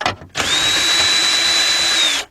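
Cordless drill spinning a 10mm deep 3/8-drive socket to loosen fuel pump bolts on an Infiniti G20 / Nissan Altima, a loud steady high-pitched motor whine lasting about two seconds after a brief start.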